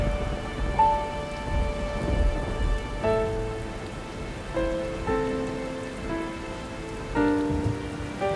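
Steady rain pours on a surface during a thunderstorm, with low rumbling thunder underneath. Sustained tonal music plays over the whole scene.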